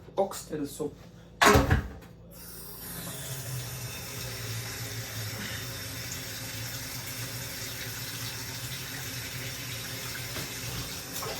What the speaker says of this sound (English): I'm gonna wash it. I'm gonna clean it first.